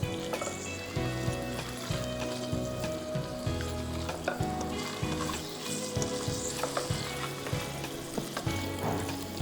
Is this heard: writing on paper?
no